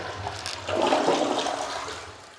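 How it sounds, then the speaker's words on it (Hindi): A toilet flushes in a close, rushing burst of water that swells and then gradually drains away, heard alone without any talk. "फिर अपने दाएं हाथ से फ्लश कर दीजिए"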